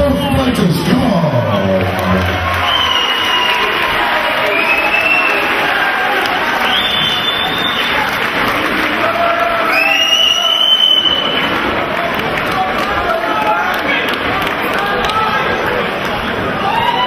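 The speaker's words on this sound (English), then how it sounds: "let's have a round of applause for both fighters" Boxing crowd at an amateur bout noise loudly throughout, a dense babble of cheering and shouts with whistles and tonal calls rising over a steady roar, recorded up close in a packed hall.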